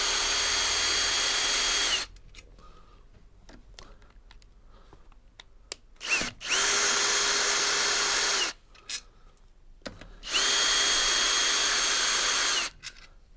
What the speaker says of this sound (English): I'm going to cheat a little bit and just use my drill driver.